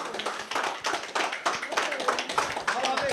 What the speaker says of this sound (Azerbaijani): Alqışlayaq, Tağı qardaşımı.